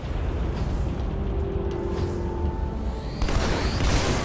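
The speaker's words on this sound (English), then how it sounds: "Forgot how neat the explosions look in this one." Explosions in the video game Halo 2 Anniversary: a steady dense rumble of blasts with low booms, swelling into a louder, brighter burst of debris and fire toward the end, with no talk over it.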